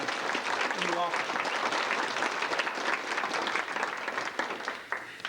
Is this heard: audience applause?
yes